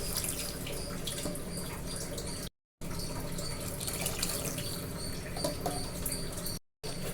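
Water pours steadily into a pan of sautéed masala for egg curry, a continuous splashing rush broken by two brief silences.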